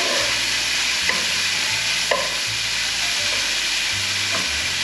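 Bacon sizzles and crackles steadily in a hot pan, a loud continuous hiss broken by soft scrapes of stirring.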